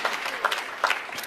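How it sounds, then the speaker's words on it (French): A church congregation gives a short burst of clapping during a worship service, a moderately loud, busy patter of many hands lasting barely over a second. "tu peux applaudir Jésus, il est fidèle."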